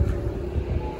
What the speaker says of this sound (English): So that's normal for the fan to be making that noise.